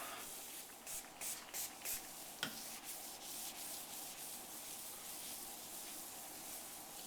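Sealer residue is scraped off a granite countertop in soft, quiet rasping strokes. A cluster of short scrapes comes early, followed by a sharp tap, then a continuous faint rubbing hiss.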